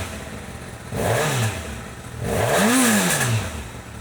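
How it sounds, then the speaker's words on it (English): A 2025 Honda CB1000SP Hornet motorcycle cold-starting: the engine catches with a rising burst, settles briefly, then revs up and back down in a second swelling blip, loud and close with no talk. "This is a 2025 Honda CB1000SP. This is the big deal Hornet, and this is what it sounds like with a cold start."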